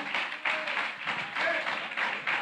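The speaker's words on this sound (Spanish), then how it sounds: "Dale un aplauso al Señor." A church congregation claps along in quick rhythmic bursts, a fairly close and moderately loud patter of hands with voices mixed in underneath, rising and dipping in even pulses.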